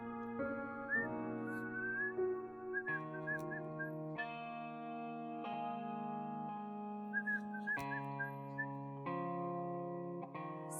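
A person whistling a bright, warbling melody in short repeated phrases, heard clearly over a sustained musical backing in a television drama scene, with no voices.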